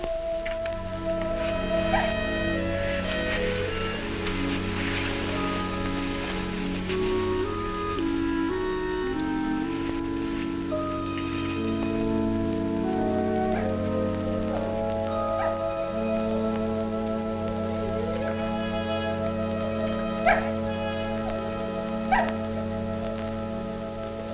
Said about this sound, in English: Said he howls all night.